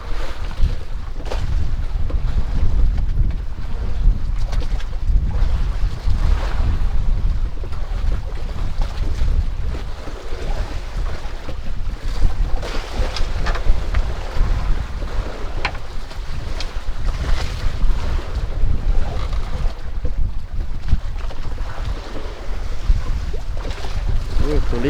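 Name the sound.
boat at sea with wind and waves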